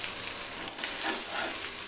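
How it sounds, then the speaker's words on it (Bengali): Hilsa fish pieces coated with salt and turmeric fry in oil with green chilli and onion, producing a dense, steady crackling sizzle up close for a short stretch. "এই যে এখানে কয়েকটি ইলিশ মাছ ভেজে নিলাম লবণ হলুদ মাখিয়ে, সঙ্গে কাঁচামরিচ পেঁয়াজ দিয়ে মাছটা ভাজি করে নিলাম।"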